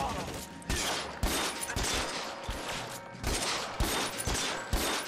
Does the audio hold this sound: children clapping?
no